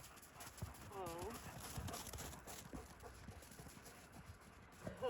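A small horse walks on a hard surface, its hooves clip-clopping in an uneven, close rhythm while faint voices murmur in the background.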